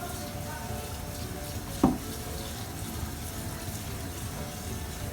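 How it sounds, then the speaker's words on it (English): Cold tap water runs steadily over cooked pasta in a strainer, a constant close-up rushing hiss with one brief splash or knock partway through; no talking. "You're gonna wanna rinse it and get that cold water on there."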